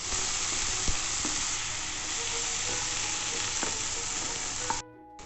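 Chopped tomatoes and onions fry on a hot tawa with a steady, close sizzle, a few utensil taps through it, before the sound drops away abruptly near the end.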